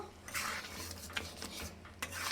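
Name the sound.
stirring mixed vegetable dal with garam masala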